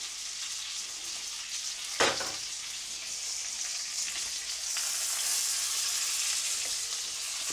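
Venison and rabbit loin browning in a hot frying pan, a steady broad sizzle throughout with one sharp spattering burst early on, the frying swelling slightly louder toward the end; no voices.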